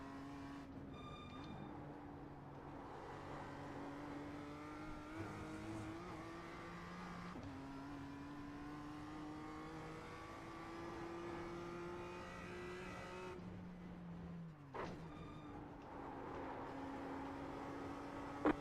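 A race car engine drones at high revs during the Nürburgring 24 hour race, holding long steady pitches that step and shift with gear changes, with a brief dip and rise near the end.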